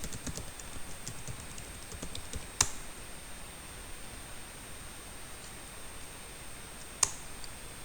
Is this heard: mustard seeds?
no